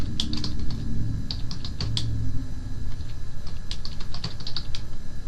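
Computer keyboard typing in a quiet room: clusters of quick key clicks in short bursts over a steady low hum, with no talking.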